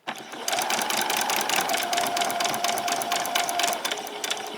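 Close, steady whirring of a sewing machine stitching around the seams of a pajama top, running almost continuously and slowing briefly near the end.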